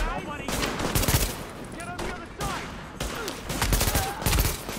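A heavy firefight in The Division, with rapid machine-gun bursts and scattered shots close by, continues for several seconds. A voice speaks briefly beneath the shooting.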